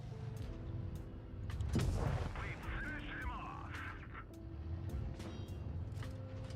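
Tank guns fire in World of Tanks Blitz during a competitive cup match, with a heavy boom near two seconds among smaller clicks and thuds, while a voice talks over the game noise.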